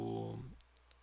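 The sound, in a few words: computer keyboard key being pressed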